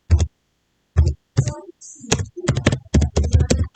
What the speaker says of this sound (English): I'm just going to type in class organizational